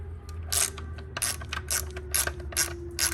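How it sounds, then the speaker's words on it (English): A ratcheting wrench backs out small 8mm bolts on a Chevrolet 4T40e transmission with a 2.2 engine. It gives repeated quick clicking bursts in a steady rhythm, close and clear, with no voices. "take these little bolts out here. They're 8mm."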